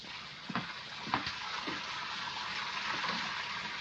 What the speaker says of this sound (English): I've started your bath running, sir.